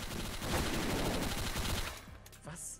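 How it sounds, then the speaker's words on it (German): Rapid bursts of gunfire and booming explosions crowd together loudly, then thin out into scattered sharp pops near the end. "Uli, warum explodiert hier alles"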